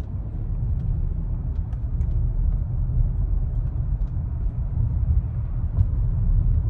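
A Rolls-Royce Cullinan gathers speed on the road, heard as a steady, deep low rumble of engine and tyre noise from inside the cabin, continuous and moderately loud, with no voices.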